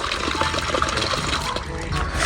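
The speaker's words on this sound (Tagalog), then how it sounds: "Si Bal po dito kumukuha na po ng tubig" Tap water running and splashing steadily into a container, fetched from a new backyard faucet for watering vegetable plants such as mustard greens, a continuous broadband rush that stays fairly loud throughout.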